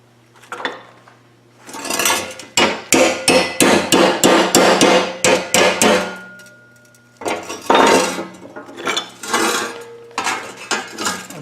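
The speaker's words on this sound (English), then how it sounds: "Put a hammer in here like this" Hammer knocking down the metal edges of a whale sculpture, a rapid run of sharp ringing metallic clangs, then a pause and a second shorter burst of blows, close and loud.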